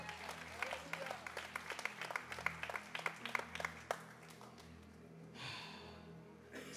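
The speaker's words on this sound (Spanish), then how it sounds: "Ese es un buen lugar para aplaudir." Congregation in a church clapping, a dense run of sharp claps for about four seconds that thins out, then a soft murmur and rustle as the applause fades.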